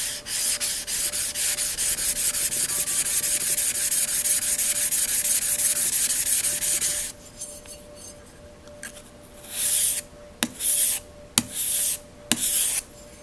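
Old paring knife drawn across a sharpening stone in steady rhythmic strokes, a close, continuous rasping scrape for several seconds, then a pause and a few short separate passes.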